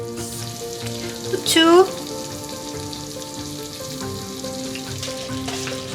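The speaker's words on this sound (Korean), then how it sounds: "5분에서 10분 정도 볶을게요." Gobi namul (bracken) stir-fries in a pan with a steady sizzle, a brief louder clatter of stirring partway through, under a faint hum; a voice briefly says a word.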